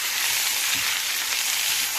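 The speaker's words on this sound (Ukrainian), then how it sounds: "Додаємо м'ясо і смажимо його помішуючи." Meat sizzles loudly and steadily in a hot pan while being stirred, a dense continuous crackle with no voices.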